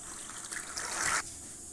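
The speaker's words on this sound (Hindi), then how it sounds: "अब उसमें हम ये मटर डाल दे रहे हैं।" Green peas poured into water in a kadhai for steaming, a brief splashing, trickling burst of liquid that swells and cuts off, close by and moderately loud, with no talking.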